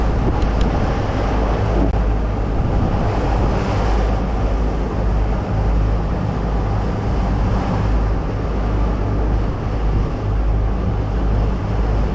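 Ocean waves and strong wind out at sea off Madagascar, a constant roaring wash of surf with heavy wind buffeting the microphone and low rumble throughout, no voices.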